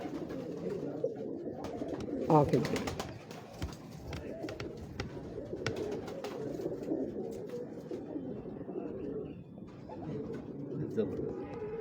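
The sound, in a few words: pigeons cooing on a Lahore rooftop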